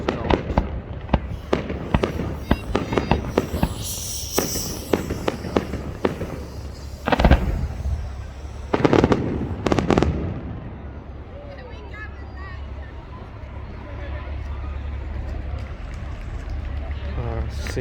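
An Easter fireworks display over the pier at Clacton-on-Sea crackles and bangs in rapid bursts with a few heavier booms, then fades to a crowd murmur and distant rumbling, with people talking nearby.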